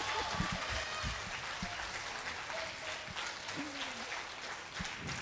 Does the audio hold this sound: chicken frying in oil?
no